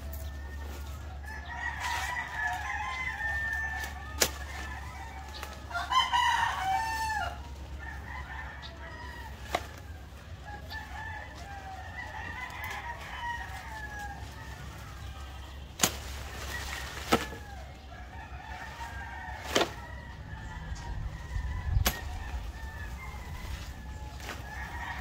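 Chickens cluck repeatedly and a rooster crows, with occasional sharp clicks and knocks over a low steady hum.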